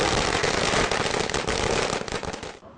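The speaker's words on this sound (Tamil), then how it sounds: "பட்டாசுகள் வெடித்து கொண்டாடப்பட்டது." Firecrackers burst in rapid, dense strings during a celebration of a by-election result in Pudukkottai, a loud continuous crackling barrage that stops abruptly near the end.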